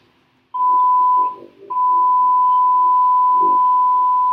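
A phone line tone sounds as a call is placed to a mobile, a steady electronic tone that breaks off briefly and then resumes, loud and alone.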